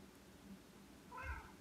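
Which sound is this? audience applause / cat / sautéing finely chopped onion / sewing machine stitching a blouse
cat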